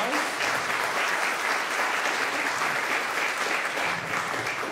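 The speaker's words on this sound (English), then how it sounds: "Welcome him with a round of applause." A church congregation applauds to welcome a guest preacher during a band service, steady dense clapping throughout at moderate level, with faint voices underneath.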